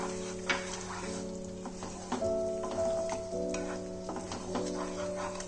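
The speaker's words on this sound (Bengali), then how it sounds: "যতক্ষণ আমি মশলাটা কষাচ্ছি একটুখানি জল এর মধ্যে অ্যাড করে দেব" Fish curry masala for pabda fish being stir-fried in a pan, a soft steady sizzle with scraping spatula strokes at intervals and a faint tonal hum underneath, with no voices.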